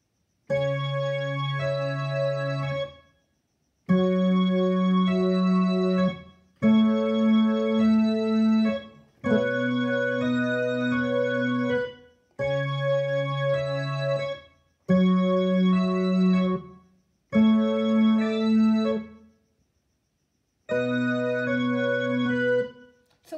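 A piano melody from a pop song played in eight separate phrases, each sustained chord-like passage ringing clearly, with short pauses between them; no talking.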